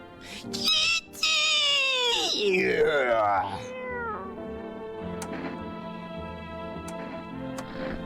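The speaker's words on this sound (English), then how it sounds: "You reach out and pet the cat." A cat in the horror video game No I'm Not a Human gives a long, loud, wavering meow while being petted, then quieter game ambience with faint ticks follows.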